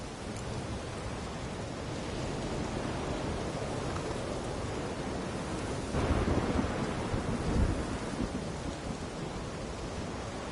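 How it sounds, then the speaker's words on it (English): A thunderstorm rages in a PS4 video game, with continuous dense rain and a low rumble of thunder swelling near the middle, loud and steady with no voices. "Storm's died down."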